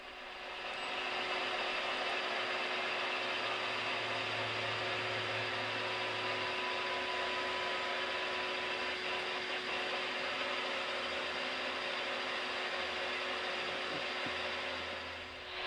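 A Union Pacific switch engine locomotive idles and runs with a steady, loud diesel drone and faint tonal whine, holding constant throughout with a brief low rumble early on and no voices.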